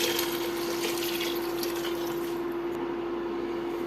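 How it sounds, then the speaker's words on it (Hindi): Water pours steadily into a cooking pot of lentils and spices for haleem, a continuous close rushing splash with a constant hum underneath, easing slightly toward the end. "अब हम इसमें इतना पानी ऐड करेंगे कि ये डिप हो जाए।"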